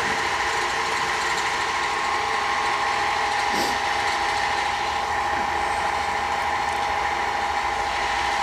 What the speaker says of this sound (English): The noise you hear in the background is air compressor.